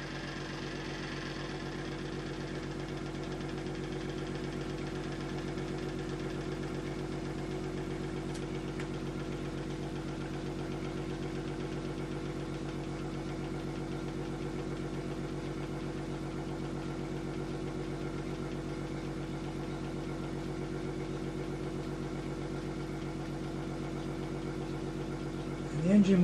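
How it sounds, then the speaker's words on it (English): A tiny Paul Cooper stationary engine idles at slow speed, giving a steady, even mechanical hum and rapid beat that holds level and close for the whole stretch, with no talk over it. "slow speed for a tiny engine like this."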